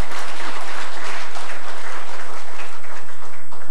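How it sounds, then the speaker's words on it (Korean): A church congregation applauds during an ordination service, a dense, steady wash of clapping that fills the space for several seconds at strong level. "박수 한번 해주세요."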